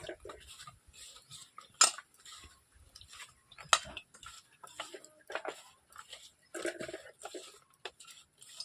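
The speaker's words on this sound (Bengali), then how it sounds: "এখন ওগুলো দিয়ে আমি মেখে নিচ্ছি ভালো করে আলুটাকে" Potatoes are mixed with turmeric by hand in a bowl, giving soft irregular squishing and rubbing sounds with occasional sharp clinks against the bowl, quiet and close.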